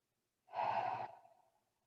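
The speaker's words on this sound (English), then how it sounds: "Take one more deep breath in and out." A single deep breath in and out during a gentle wake-up yoga session, soft and close, rising then trailing off into a long, quiet exhale with no talk.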